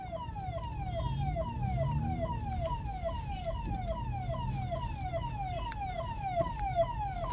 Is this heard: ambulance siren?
yes